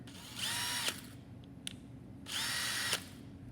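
A cordless drill whirs in two short bursts, spinning up and winding down, with a faint click between them and a low background hum.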